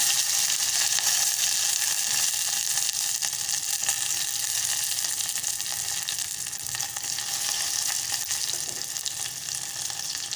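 Curry leaves and garlic sizzle hard in hot oil already seasoned with asafoetida and mustard seeds, a tempering for Malvani buttermilk kadhi. The crackling frying noise is loud and steady throughout, with faint stirring and no voices.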